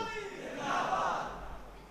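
At a religious sermon gathering, an audience raises a brief collective slogan shout, voices swelling together in a single loud chant that fades out within two seconds.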